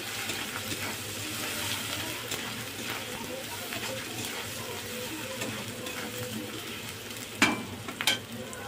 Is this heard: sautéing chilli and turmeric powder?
yes